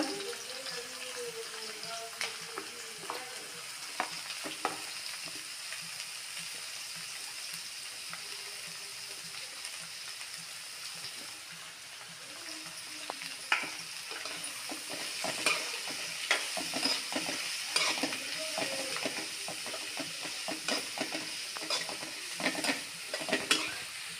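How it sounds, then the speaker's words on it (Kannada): Onion and garlic frying in oil in a pan for tomato chutney: continuous close sizzle with frequent scraping stir strokes that grow busier in the second half, plus faint water-like trickling and no clear talk. "ಈಗ ಈರುಳ್ಳಿ ಈರುಳ್ಳಿ ಹಾಕಿ ಸರಿ ಫ್ರೈ ಮಾಡ"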